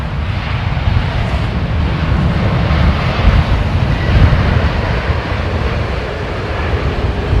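A Boeing 777 airliner taxiing fast at London's Heathrow Airport, heard as a steady, loud engine roar with heavy low rumble and wind buffeting on the microphone throughout, no voices.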